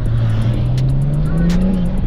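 A tuned BMW 335i with the N54 engine at Stage 1+ accelerating hard, its engine note climbing steadily in pitch as it pulls, loud and close from inside the car with no talking.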